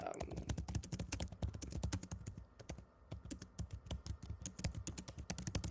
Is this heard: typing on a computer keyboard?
yes